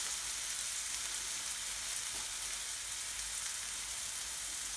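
Chopped onion sizzles and fries steadily in a pan while cooking a chicken aloo madras curry, a constant crackling hiss with no talking.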